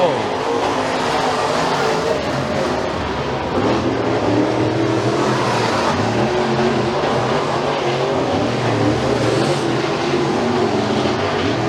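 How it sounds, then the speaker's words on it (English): Race cars roar around the McKean County Raceway dirt track during a heat race near the end of the race. The engine noise is loud and continuous, a dense sustained drone that fills the whole stretch without pause. "Al Brewer pulls away by about 2 car lengths off turn 4, 2 laps to go."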